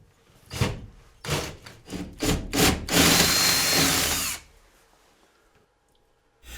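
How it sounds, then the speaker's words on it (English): A power drill enlarges a hole in ceiling wallboard. Several short whirring pulses lead into one longer steady grind of about a second and a half, then the drill stops, close and loud with no voices. "I'm changing the bit to a larger size so that I can enlarge the hole in the ceiling"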